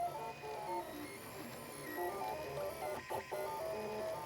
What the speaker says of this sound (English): But we're able to use this printing machine,